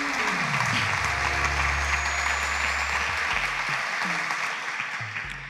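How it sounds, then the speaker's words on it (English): Studio audience applauding an eliminated contestant on a televised quiz show, loud continuous clapping over low musical tones, tapering slightly near the end. "A round of applause to Anita."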